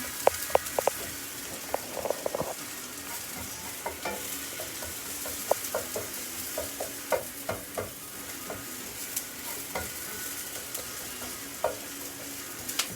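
Onions for tacos frying in a pan, a close, steady sizzle and crackle broken by frequent spatula stirs and clicks against the pan, with no voices.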